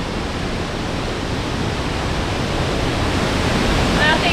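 Rhine Falls in Switzerland roars as a steady, loud, broadband rush of falling water close by a boat, dense and continuous throughout with no break.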